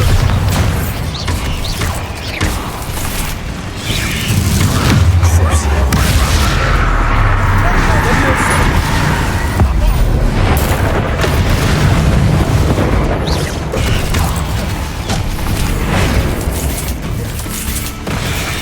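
Bombarda blasting spell cast in the Hogwarts Legacy video game: deep, heavy booming explosions with rumbling low end, repeated through a dense, loud stretch of combat effects and magical noise.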